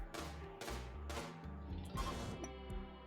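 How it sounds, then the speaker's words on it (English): Rapid bursts of gunfire and crashing impacts from the video game Rimworld as a mechanoid psychic droner is shot down, loud repeated cracks layered over continuous game sound. "With a bit of concentrated gunfire, they were soon able to destroy the droner."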